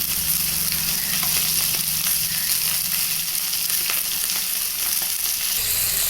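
Mustard oil sizzling hot in a kadai, a dense, steady frying hiss that continues throughout with faint clinks and stirring sounds.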